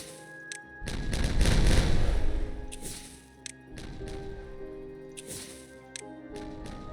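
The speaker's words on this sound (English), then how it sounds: "So we're just going to go ahead and detonate." Explosives detonating in Timberborn, a colony-building game with beavers: a deep rumbling blast swells and fades over a couple of seconds, followed by smaller thuds and crumbling debris over light background music.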